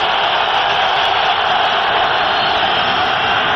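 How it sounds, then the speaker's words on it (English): Oakland Raiders home football crowd in 1998 against the Denver Broncos, roaring in the stadium as a dense, loud, unbroken wall of noise with no pauses. "And now the Raider crowd is back into this game."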